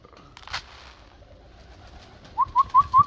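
Pigeons being trained to fly are heard close by in a quiet setting. Faint rustles come first, then four distinct, rhythmic coos in quick succession.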